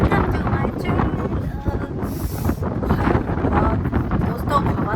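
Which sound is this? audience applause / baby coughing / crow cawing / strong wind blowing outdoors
strong wind blowing outdoors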